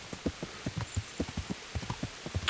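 Rain falling in the medieval open world of Kingdom Come: Deliverance, a soft steady patter with scattered low thuds that may be hoofbeats, quiet and without speech.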